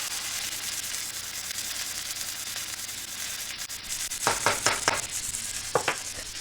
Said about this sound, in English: we'll give that a little stir.